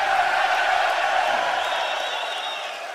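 A large concert crowd cheers and shouts at a rock show in the Hammersmith Apollo, a steady roar of voices that holds loud for a few seconds and then slowly eases off.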